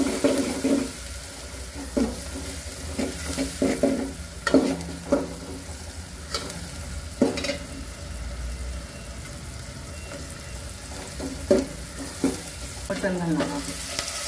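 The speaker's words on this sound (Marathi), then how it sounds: "हे परतून घ्यायचं आहे। त्याच्यात आपण 1 चमचाभर हळद घालणार आहोत।" Onion and tomato masala with a spoonful of turmeric being sautéed for mutton curry, a continuous loud sizzle broken by repeated scraping and stirring strokes of a spoon against the pan, heard close up without speech.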